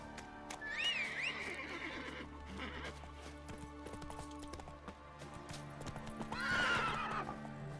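Roach the horse in The Witcher 3 gives two shrill whinnies, one early and one near the end, over steady clopping hooves and faint game sounds.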